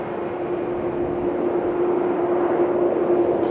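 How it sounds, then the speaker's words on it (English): Incoming airliner approaching a runway at Sydney airport, a steady droning engine roar with a sustained tone, moderately loud and unchanging, heard from the ground with no voices. "No, we've got a incoming flight."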